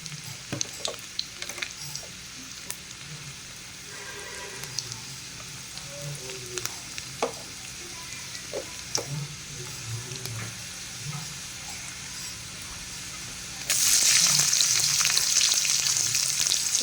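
Garlic, curry leaves, asafoetida and onion fry in hot oil for a masala bhindi, a steady close sizzle with scattered stirring scrapes, growing louder and brighter near the end as more goes into the pan.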